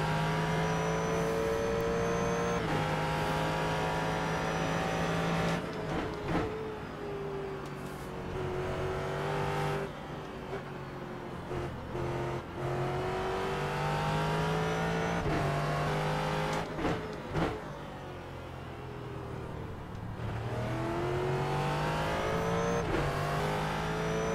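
Ford GT3 race car in a racing video game at Twin Ring, engine revving and falling through corners with throttle blips, continuous and loud, with rising and dropping pitch and brief sharp shifts.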